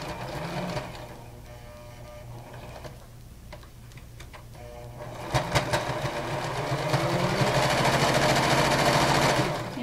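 A sewing machine stitches a reversible headband with elastic, running in rapid ticking bursts with short pauses, then settling into a steadier, louder continuous run near the end.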